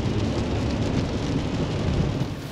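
Heavy rain pouring steadily at night on a mountain in Austria, a dense, loud, unbroken rush of drops with no voices.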